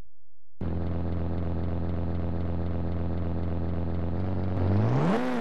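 Several race cars in the PS1 game Rage Racer idle together at the starting grid in a steady, dense engine drone, then rev up sharply in a rising whine as the race begins.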